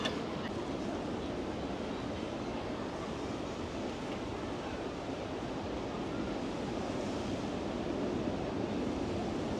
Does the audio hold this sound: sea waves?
yes